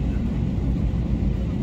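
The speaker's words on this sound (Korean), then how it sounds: "지금 움직이고 있는 이 비행기는 라오스를 향해 갈 겁니다." Steady low rumbling cabin noise inside an airplane moving toward Laos, a constant broadband roar with no distinct events.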